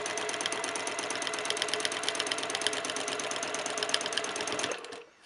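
A sewing machine runs continuously for free-motion quilting on a blue quilt, its fast even needle rattle steady and close for about five seconds before stopping abruptly.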